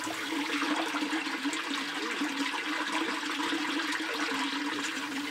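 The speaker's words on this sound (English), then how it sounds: "and the water goes down and enter the tank." Water rushes down into a stone-and-cement tank in Bamenda, a loud, continuous splashing roar that stays steady and close from start to finish.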